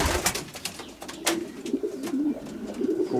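Several racing pigeons coo steadily in low, throaty rolling calls, close by, with some rustling and fluttering around them.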